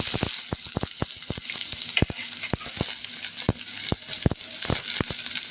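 Chopped onion sautéing in hot oil, sizzling steadily up close with sharp spatula clacks scraping the pan at irregular intervals, no talking.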